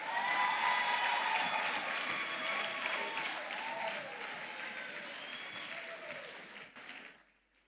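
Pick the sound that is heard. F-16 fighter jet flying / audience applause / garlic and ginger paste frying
audience applause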